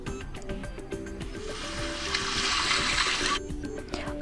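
An alarm melody on a Huawei Mate 20 X plays as a soft, watery wash with gentle tonal notes, swelling in the middle and then easing off.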